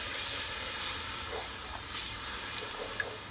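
Ginger-garlic paste and a cup of yogurt sauté over high heat for lamb pulao, a steady broadband hiss and sizzle with faint scraping ticks near the end, no talking.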